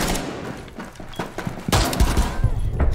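Gunfire in Rainbow Six Siege, a loud burst of several rapid shots with heavy thumps in the second half, following quieter game noise at the start.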